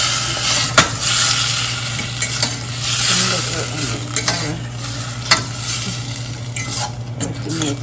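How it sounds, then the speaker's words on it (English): Oil fries loudly in a pan at the start of a chicken gravy, a dense, continuous sizzle close by with occasional clinks and scrapes of a utensil. "I'm gonna put some oil in here and cook that up."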